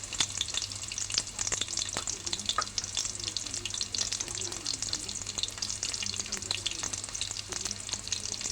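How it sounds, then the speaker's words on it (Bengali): Onions sizzle steadily in a hot pan for biryani, a dense continuous frying hiss with occasional small pops and scrapes, fairly close and without talk. "এই যে পেঁয়াজ দিয়ে দিতেছি"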